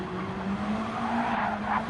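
Car tyres squeal and skid under a droning racing engine, a continuous screech rising slightly toward the end, during a circuit race.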